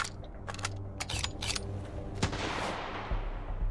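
Shotgun fire in the video game Sunkenland comes as several sharp, loud blasts in quick succession, followed by a rushing, roaring wash of noise.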